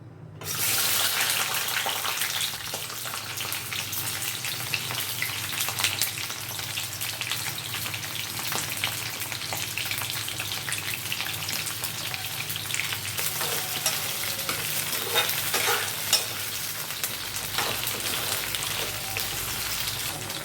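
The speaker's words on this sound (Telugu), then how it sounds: "వేడెక్కిందో లేదో చూసి ఈ దొండకాయల్ని ఆయిల్లో వేసుకొని బాగా వేగించుకోవాలి" Ivy gourds fry in hot oil, giving a steady, loud, hissing sizzle that fills the whole stretch with no talking.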